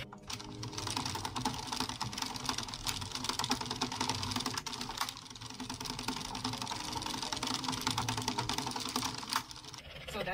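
An Addi King Express circular knitting machine is cranked while making a reversible beanie, giving a rapid, busy run of clicking and clacking, with a click each time a round returns to the start, steady for about ten seconds at moderate loudness.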